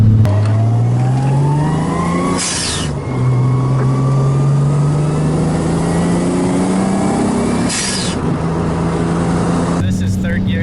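Nissan 240SX S13 hatchback with a swapped 1JZ engine running 12 pounds of boost pulls hard in third gear, its loud close engine note climbing steadily in pitch, with two brief breaks in the drone.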